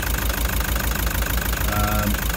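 A car engine with a cracked piston idles with a steady, rough, rhythmic knocking pulse, loud and close, while the engine rocks in its mounts; a brief tonal whine rises near the end.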